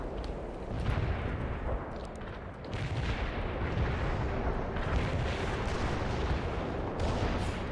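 Artillery barrage in the World in Conflict strategy game, Soviet Assault: a continuous roar of heavy shell impacts and booming blasts, loud and dense throughout with repeated rumbling explosions and no talk.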